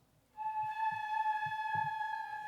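A beginner's flute head joint blown on its own sounds a single steady, breathy high tone, sustained for about two seconds with faint background noise beneath.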